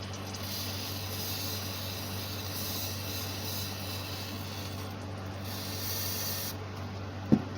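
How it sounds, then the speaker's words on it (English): Carburetor cleaner sprays onto a Bolens QT17 carburetor as a faint, steady hiss that lasts throughout over a low hum, ending with a small sharp click. "Carb cleaner is doing a good job at dissolving that gunk"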